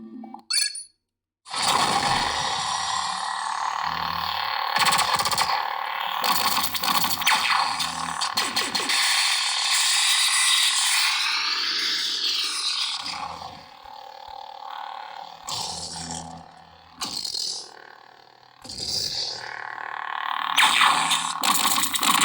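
A lightsaber's sound effects: a loud, buzzing hum with sharp swooshes and crackling clashes, sweeping up and down in pitch, pausing briefly near the start before continuing in bursts.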